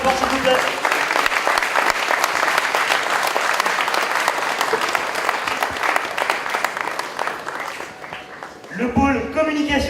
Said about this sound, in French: Nassar Anil, et Basram Nadia, que je vous demande d'applaudir très fort, s'il vous plaît.